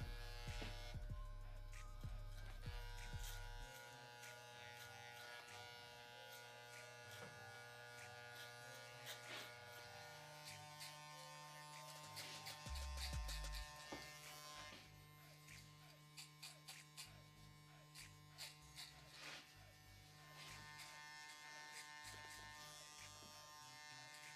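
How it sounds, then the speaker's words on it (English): Electric hair clippers with an attachment comb run steadily for a fade haircut, a continuous close buzz with brief shifts in pitch and intensity as the blade passes through hair, with no talking. "completing most of the clipper work on Mo's fade here"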